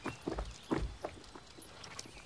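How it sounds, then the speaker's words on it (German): Horse hooves clip-clopping in a German children's film, a few irregular nearby thuds spread unevenly across the clip, with no talking. "Komm, ich zeig dir mal mein neues Pferd."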